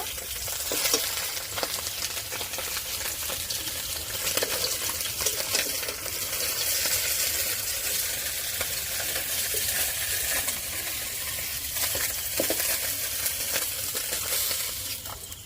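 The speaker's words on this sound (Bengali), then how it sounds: "সব মাছ ভাজা হয়ে গেছে বন্ধুরা" Small river fish fry in hot oil in a pan, a continuous loud sizzle and crackle throughout with occasional scraping stirs and no talking.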